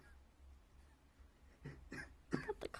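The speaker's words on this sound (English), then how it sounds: "Got the coughing." Several coughs and throat-clearing sounds break out in quick succession near the end, loud and close, after a stretch of low background noise.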